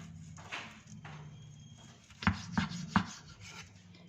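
A knife trims the fine bits from the back of a cleaned beef tongue, giving soft rubbing scrapes followed by three sharp, distinct cuts or taps against the board near the end, close and fairly quiet.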